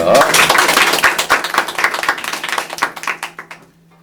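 An audience at a talk show on AI creations claps briefly, a burst of close, distinct hand claps that thins out and fades to quiet by the end, with a faint steady hum beneath.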